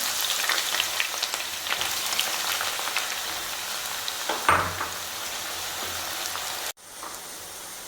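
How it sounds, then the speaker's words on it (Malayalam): Sliced onions deep-fry in hot oil for beef biryani, giving a steady, fairly quiet sizzling crackle throughout, broken by a louder spitting burst midway and a brief cut near the end. "നമ്മൾ സവാള വറുത്ത് കോരാനായിട്ട് ഇടുകയാണ്."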